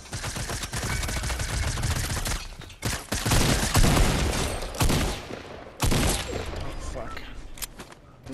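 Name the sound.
gunfire in Fortnite video game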